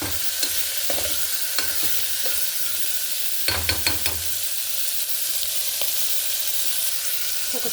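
Chicken with salt is stirred in a pan, made as food for a Dogo Argentino puppy. A spoon clinks and scrapes in scattered knocks over a constant sizzling hiss.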